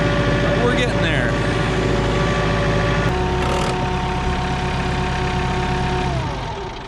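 A tractor engine idles steadily and loud throughout in cold weather at a farm while round hay bales are handled, a constant low mechanical drone with a slight shift in tone midway.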